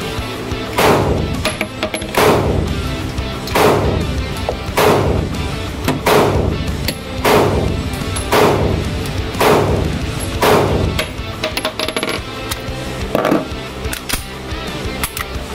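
A Taurus G2C pistol fires about ten loud, sharp shots at a steady, evenly spaced pace, each crack followed by a short echoing tail on an outdoor range.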